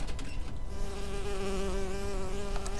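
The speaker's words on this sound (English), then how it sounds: "Oh, it's a bee." A bee in BioShock Infinite buzzes close by, a steady droning hum that wavers in pitch over a few seconds, with no talk over it.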